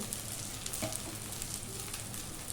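Cooked brown rice being mixed in a frying pan with egg: a faint, steady frying hiss with soft, muffled stirring scrapes throughout.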